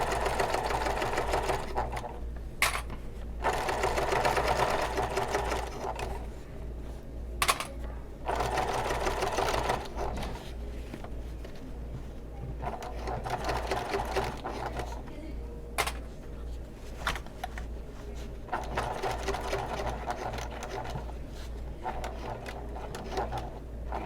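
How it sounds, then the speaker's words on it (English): A sewing machine stitches around the edge of a fabric bag, sewing a line just over an eighth of an inch in. It runs steadily in close, even bursts with a few short pauses, and no one speaks. "I'm going to stitch around this twice"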